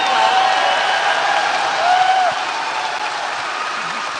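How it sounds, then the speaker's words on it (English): Applause from a town hall crowd in South Carolina, a steady dense wash of clapping that holds loud throughout, eases slightly partway, and carries a faint voice and scattered cheers within it. "Go ahead, clap."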